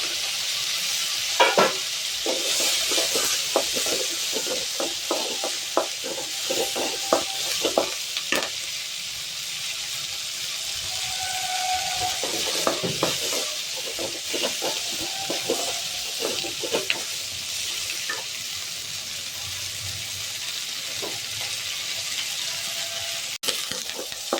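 Onion, garlic, dried red chilies and curry leaves sizzle steadily in a pan for a tangy Tamil vathal kuzhambu, with frequent close stirring scrapes and clinks over a continuous frying hiss.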